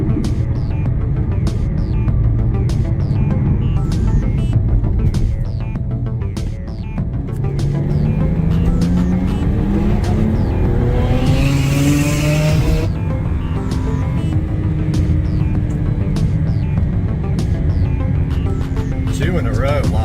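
A fast race car accelerates hard during a run, its engine tone climbing in steady sweeps with a brief rough burst midway, loud and continuous while people talk over it.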